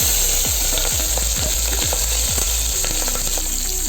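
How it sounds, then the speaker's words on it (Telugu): Mustard seeds, fenugreek, cumin and onions fry in a little oil in a pan, a steady close sizzle with bursts of popping seeds and a few low knocks, no voices. "ఒక డెక్షలో నూనె కొద్దిగా పోసుకోవాలి. ఆవాలు, మెంతులు, జీలకర్ర, ఎర్రగడ్డలు ఇవన్నీ,"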